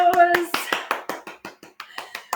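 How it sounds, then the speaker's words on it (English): A short round of self-applause after a bodyweight workout: a quick run of crisp hand claps, fast at first and then slowing and tapering off, close and fairly loud, with a voice talking over the start. "Give yourself a big old round of applause"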